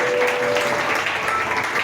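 A church congregation claps together during a worship service, a steady dense wash of applause held at one level throughout, with a faint voice barely surfacing underneath.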